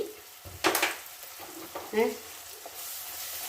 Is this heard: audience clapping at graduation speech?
no